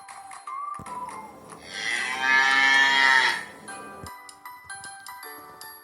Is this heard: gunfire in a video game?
no